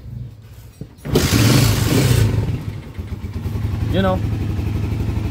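A carbureted Pinoy 155 or 125 motorcycle with no battery and a converted 5-speed transmission, kick-started so its engine catches and settles into a steady, loud idle close by, with someone talking over it.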